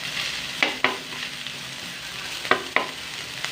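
Onion, garlic and ginger sauté for pork adobo, a close crackling sizzle punctuated by four sharp spoon-against-pan scrapes in two pairs.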